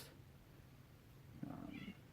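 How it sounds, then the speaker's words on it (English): A visiting cat purrs faintly and low, then lets out one short meow near the end, all very quiet with no talking. "So I got a cat visiting."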